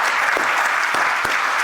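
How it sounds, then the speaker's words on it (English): Loud, close applause from a crowd at a Catholic Charities renovation celebration for the new Stamford Family Center, a dense, steady patter of clapping with a few sharper claps standing out. "Give yourselves a round of applause"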